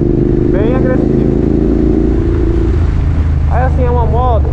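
A Hyosung GT650R motorcycle with shortened gearing, its engine droning steadily and fairly loud throughout, while someone talks over it.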